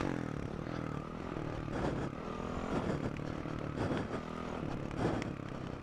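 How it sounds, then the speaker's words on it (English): A dirt bike engine revs hard in first gear for a power-up wheelie, a raw rising and falling engine note with a few throttle surges, moderately close, no talking. "So I'm just doing a first gear power up now."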